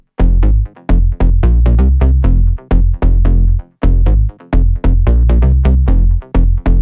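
A house music drop built from five layered bass lines pumps loud, deep bass notes in short chopped bursts, with rhythmic gaps between the punchy hits.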